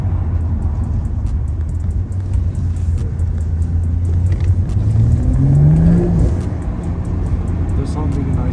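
Engine and exhaust of a stage 1 BMW M240i heard from inside while driving, fitted with a double resonator back box: a steady low droning rumble with a rising tone partway through.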